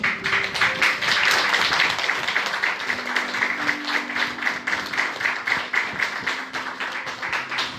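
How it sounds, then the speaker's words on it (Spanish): Sustained crowd applause at a church service, loud at first and gradually thinning into scattered claps, with a faint background hum of voices. "Denle un aplauso a Jesucristo"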